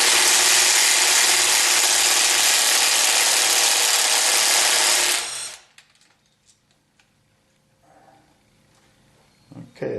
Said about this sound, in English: that's took some beating on that with the impact wrench